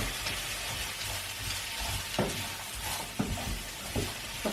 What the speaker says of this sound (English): The idea with this is to stir fry them for a few minutes, soften them a bit